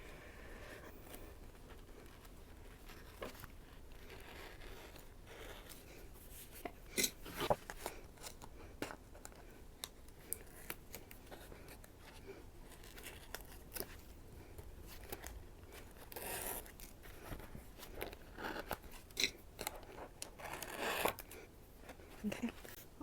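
Scissors snip and trim washi tape along the edge of a Hobonichi A5 planner page, giving quiet, scattered clicks and crisp cuts with soft paper rustling and handling noises between them.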